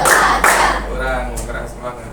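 A classroom of students clapping a counted rhythm pattern, with sharp group claps near the start and a voice leading the count over them.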